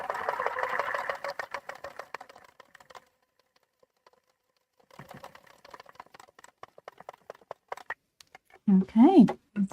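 A sewing machine stitches a mini quilt in short bursts of rapid mechanical clatter, pausing in between while a person talks nearby.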